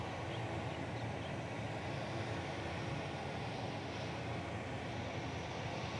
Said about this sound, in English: So this is the Hawaiian heading off to Sydney.